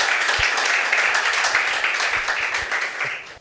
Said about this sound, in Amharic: አጨብጭቡ ባካችሁ